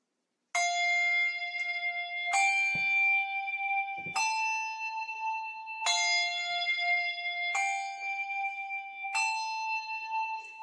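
Six handbells ring out one after another at an even pace, each swung out to the side. The clear, bright tones sustain and overlap slightly, close and distinct in a quiet room.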